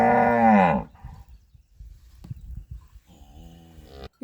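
A dairy cow on a farm during morning milking gives a loud, long moo up close, followed by quiet rustling and shuffling, then a second, softer drawn-out moo.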